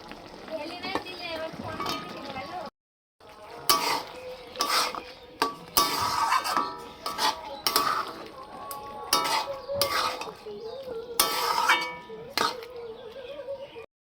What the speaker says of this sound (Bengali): এবার যে ভাজা ডিমগুলো ছিল ওটা আমি ঢেলে দেবো।